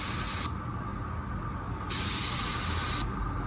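A Porphis spray gun run with fan and fluid wide open gives off steady, close airy hissing in two loud bursts, separated by a brief drop to quieter background.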